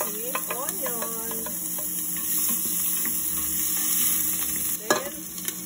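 Chicken browns in a hot pan for tinola with a steady, even sizzle and occasional utensil clinks and scrapes. A voice briefly speaks over the frying.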